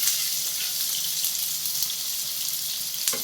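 Finely chopped medium onion sautéing with cumin seeds in a pan, a dense, close hiss of frying with faint stirring scrapes, steady and uninterrupted.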